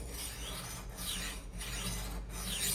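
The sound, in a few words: knife blade being sharpened on portable sharpener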